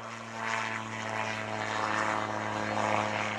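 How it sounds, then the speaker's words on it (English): A Rotorsport Calidus gyroplane takes off at an airshow, its propeller engine droning steadily at moderate distance with a slight swell, and no voices over it. "here we see Peter Troy Davies rolling with the Rotorsport Calidius. Into the air"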